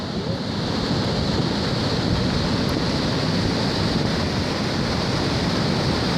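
A flooded mountain creek rushes in a loud, continuous roar of water, dense and unbroken, heard close up with no voices.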